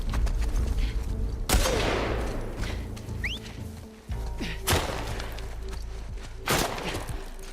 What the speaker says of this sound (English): Who's shooting me around this side?